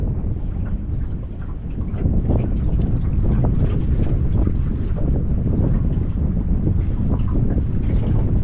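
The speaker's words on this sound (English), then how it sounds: "Yeah, barge coming by." A barge passes a fishing boat on Pickwick Lake: a steady low rumble of engine and water wash fills the whole stretch, loud and close, with wind buffeting the microphone throughout.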